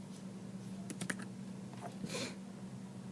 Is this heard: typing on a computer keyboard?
yes